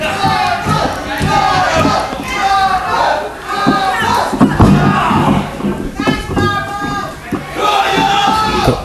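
A loud wrestling crowd cheers and shouts through an indie wrestling show, a dense roar of many voices with thuds from the ring beneath it.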